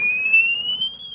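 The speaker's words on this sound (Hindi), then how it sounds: "देखिए पहला इसने अलार्म दिया है" Anti-theft alarm on a Warivo electric scooter going off after it is touched, a loud, piercing electronic tone that rises slightly in pitch as it holds steady for about a second, close by and alone.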